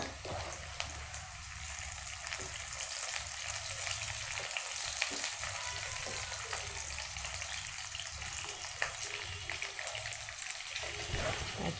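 Browned onions frying with chilli in a pan, a dense steady hiss of hot oil close by, with occasional light clinks and faint speech underneath.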